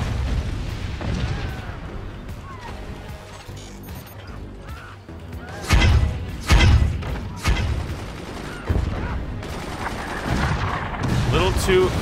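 Mortars and missiles fire in the Forts strategy game, with repeated loud booming impacts and rapid gunfire bursts clustered mid-way, under excited talk from players.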